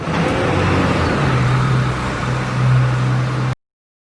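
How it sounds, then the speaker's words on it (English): A bus engine idling and revving with a steady low drone and rising swells, close and loud, with no voices. "Bus."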